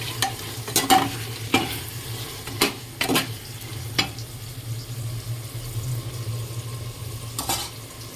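Meat and pointed gourd frying in a pan with a constant sizzle underneath, while a spatula scrapes and knocks against the pan in sharp, irregular strokes.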